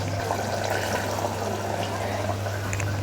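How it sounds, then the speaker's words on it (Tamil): Water is poured into a pot of mutton korma with ground coconut, a steady splashing stream heard close up over a constant low hum. "இது கூட கொஞ்சம் தண்ணி ஊற்றி சேர்த்துடலாம்."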